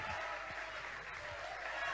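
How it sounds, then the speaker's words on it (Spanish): A studio audience at a comedy performance claps in a steady, fairly quiet patter for under two seconds, with a faint murmur of voices mixed in. "Omar Capachi, fuerte aplauso."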